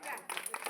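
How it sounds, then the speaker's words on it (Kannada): Audience applause at a school event where children honour their mothers with a foot-washing ceremony, a dense patter of many hands clapping at moderate loudness for under a second. "ಜೋರಾಗಿ ಚಪ್ಪಾಳೆ ತಟ್ಟಿ."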